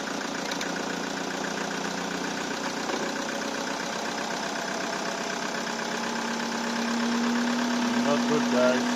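A car engine idles with a steady low rumble and vibration, rising slightly toward the end as a faint tone appears. The car has an alternator fault and fails to start, the computer raising engine speed.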